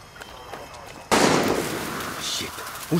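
Gunfire in Far Cry 6 erupts suddenly after a quiet stretch, a loud, sustained burst of shots and bangs with a sharp pop at the end.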